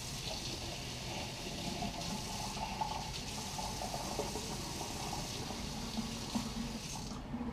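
Hot water runs steadily from a kitchen tap, an even continuous rushing stream heard close up with small splashy fluctuations throughout.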